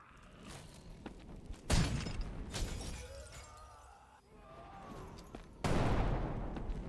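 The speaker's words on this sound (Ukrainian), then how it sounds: "Це снайпа так стріляє?" Sniper gunfire in the dark-forest hellish FPS game BLOODKILL: Goreblast Overkill, with two loud, sharp blasts a few seconds apart, each trailing off over a low rumbling game soundscape.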